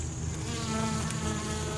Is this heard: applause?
no